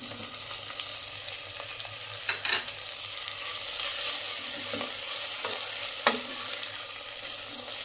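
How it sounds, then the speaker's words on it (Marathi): Onions sizzle and fry in a pan for pav bhaji as tomatoes go in, with steady hissing and a few sharp scraping stirs of a spoon against the pan; close and continuous, no talking. "कांदा लाल झाला आता टमाटे टाकून घेऊ"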